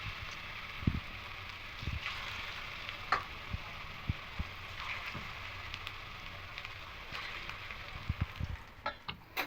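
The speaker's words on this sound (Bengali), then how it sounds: "তেলটা গরম হয়ে গেছে এবার বাঁধাকপির পকোড়াগুলো এক একে দিয়ে দেবো" Cabbage pakoras frying in hot mustard oil in a wok, a soft continuous sizzle broken by scattered crackles and small thumps as pieces go in, fairly quiet and close, with no talk.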